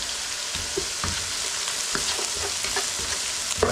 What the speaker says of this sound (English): Gently fry that garlic and ginger off of the onions.